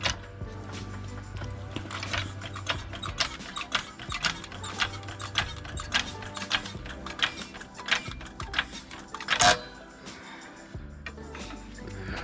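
A floor jack raises a lowered Infiniti G37 sedan in a garage, making an irregular run of metallic clicks and ratcheting ticks from the pumping handle, fairly faint, with brief speech at moments.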